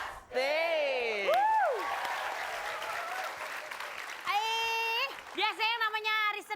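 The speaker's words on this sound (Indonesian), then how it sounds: "Tapi kita kasih tepuk tangan untuk semuanya dulu." A studio audience at a Betawi-flavoured comedy variety show claps in a sustained burst of applause, with loud, expressive voices speaking over and around it.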